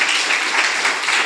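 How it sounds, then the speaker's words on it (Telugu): Steady applause from a church congregation gathered for a testimony service, a dense wash of many hands clapping continuously, loud and close, with no talking over it. "గట్టిగా చప్పట్లు కొట్టండి"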